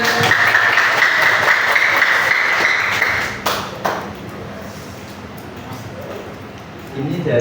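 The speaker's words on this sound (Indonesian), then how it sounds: "Boleh tepuk tangannya teman-teman." Classmates applaud at the end of a group's final class project presentation, a loud, dense spell of clapping that fades after a few seconds into quieter room chatter.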